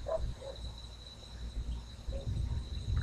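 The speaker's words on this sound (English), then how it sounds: "Crickets trilling very sharply over here next to my horse trailer." Crickets trill sharply and continuously at night beside a horse trailer, a thin steady chirring held under faint low rumbles and a couple of soft distant sounds.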